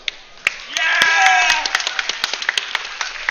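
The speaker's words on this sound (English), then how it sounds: "we have some excited crowd members here cheering for Estonia" A crowd at a Nordic and Swedish Championship Nations Cup race cheers for Estonia with sharp claps and a brief rising shout, the clapping continuing in an uneven patter.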